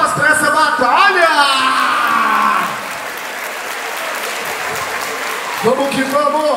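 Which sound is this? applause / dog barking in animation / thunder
applause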